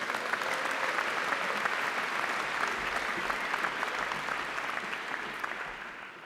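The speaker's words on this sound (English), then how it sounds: "Give yourselves a round of applause." A large audience applauds at a London College of Communication postgraduate graduation ceremony. The clapping is dense and sustained, heard from within the hall, and it stays steady for several seconds before easing slightly at the end.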